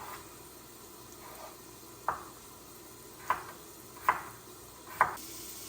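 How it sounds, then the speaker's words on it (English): Knife strikes on a cutting board while preparing potatoes in a kitchen with cast iron cookware, four or five sharp separate taps at irregular intervals over a low steady background hiss. "And I'm just going to keep on chopping."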